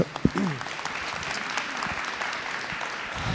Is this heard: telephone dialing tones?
no